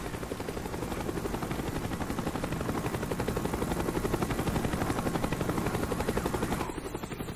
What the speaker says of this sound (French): L'hélico, reviens par ici.